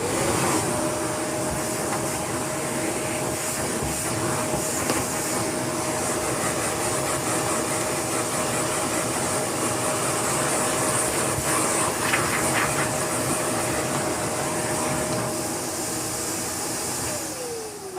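A Victor vacuum runs continuously with a steady whining hiss and motor hum, close and loud for the whole stretch while cleaning off a wash filter from a Greenote GSC50.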